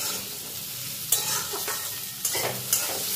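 Potato being stir-fried with onion and garlic in a pan, a continuous close sizzle broken by a few sharp spatula scrapes and clanks, loud and without any talking.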